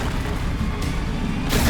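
A Confringo spell explosion in Hogwarts Legacy hits as a dense, loud, sustained roar of blast noise that swells again toward the end.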